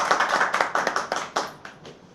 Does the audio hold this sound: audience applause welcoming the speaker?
yes